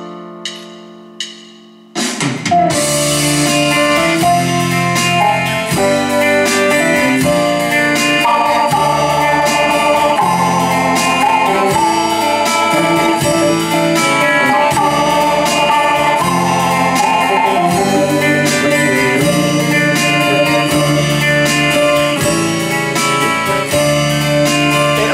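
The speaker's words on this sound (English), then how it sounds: "I've put an organ sound with it, and it sounds like this." A Yamaha P-S500 digital piano with an organ voice plays a House of the Rising Sun style passage: a few sparse notes, then full sustained chords and melody rolling on steadily and loudly with no talking.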